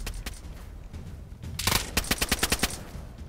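Gunfire in the DayZ video game on PlayStation 4 Pro: a burst of loud, sharp shots followed by a steady rhythmic string of about six evenly spaced reports, close and prominent over a low ambient background.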